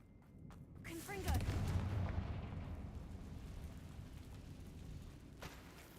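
A Confringo blasting spell in Hogwarts Legacy goes off with a deep booming explosion that swells and then fades into a long rumbling tail, with a voice faintly underneath.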